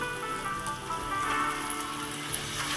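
Ground spices frying in oil in a pan while fish curry with mustard paste cooks, giving a steady close crackling sizzle throughout with occasional sharper pops.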